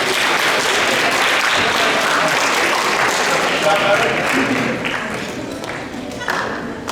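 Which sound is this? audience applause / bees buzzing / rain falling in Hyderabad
audience applause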